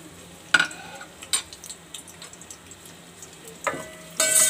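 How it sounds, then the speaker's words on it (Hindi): Onion frying lightly in hot oil for a urad dal (daal mash) dish, with brief sizzling bursts and clinks of a utensil stirring in the pan, fairly quiet overall. "प्याज को हल्का फ्राई करना है।"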